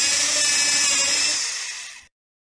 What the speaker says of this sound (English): A drill sounds like this.